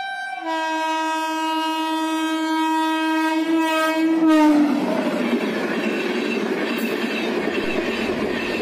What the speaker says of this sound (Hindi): ट्रेन बहुत तेज स्पीड में निकल गई